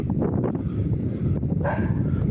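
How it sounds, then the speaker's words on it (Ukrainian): A couple of dogs bark in short, scattered bursts at a middle distance in a street in Kherson, Ukraine, over a constant rumbling background noise. "Собаки гавкають."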